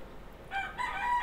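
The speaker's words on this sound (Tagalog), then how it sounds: "Papakita ko lang po sa inyo yung mga video ng ating mga alagang manok na, ayan, sa initan po ng araw." Pet chickens out in the hot sun, a rooster letting out a short crow that starts partway through and carries on to the end, fairly close and with no talk over it.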